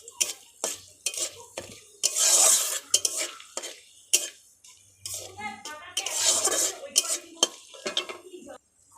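Bay leaves and dried red chillies hit hot oil in a pan, bursting into two loud sizzling surges between bouts of spoon stirring, scraping and metallic clinks against the pan, close and uneven.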